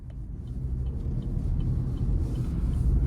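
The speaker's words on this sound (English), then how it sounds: "we're gonna go ahead and take this 2023 Equinox LT out on the road for a quick test drive" A 2023 Chevrolet Equinox LT with the 1.5-liter turbo engine drives on the road, giving a steady low rumble of engine and road noise that holds at a constant level throughout, with no talking.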